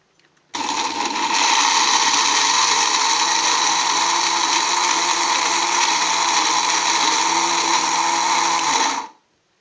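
Blender grinding almonds and fennel seeds in a jar, a loud steady whirring motor running continuously for about eight seconds, then stopping abruptly.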